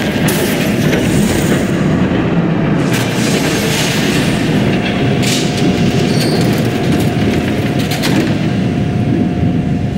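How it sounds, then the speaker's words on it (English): A train rumbles loudly through a scene of the Batman episode "New World Order" video game, a dense roar of wheels and rattling carriages sustained throughout with no one speaking. "There's a train coming."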